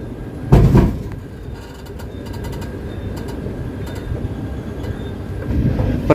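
Garib Rath Express with ICF coaches running into Thiruvananthapuram station, a continuous rolling rumble with a loud thump near the start, light metallic clicks over rail joints and rising noise toward the end.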